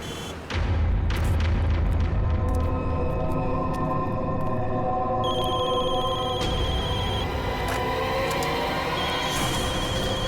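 Several telephones ring at once in a busy office during a CID crime drama. Steady electronic ringing tones overlap continuously over a loud, dense background rumble for about ten seconds.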